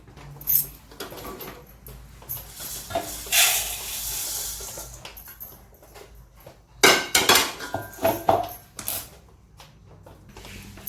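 Roasted thin poha being scooped out of a hot pan after the gas is switched off, with loud metal utensil scrapes, clanks and rattles in uneven bursts, close up and without speech.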